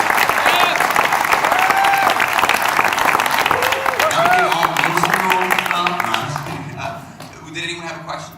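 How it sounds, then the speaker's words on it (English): An audience claps loudly and continuously at a church-style gathering while voices and whoops rise over it, the applause thinning out and fading toward the end. "Would you give them a round of applause?"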